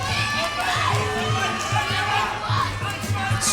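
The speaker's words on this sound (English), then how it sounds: "The crowd switched on as soon as the music started." A crowd at a fight event cheers and shouts steadily, a dense roar of many voices with some higher yelling, loud and continuous throughout with a low rhythmic thump underneath.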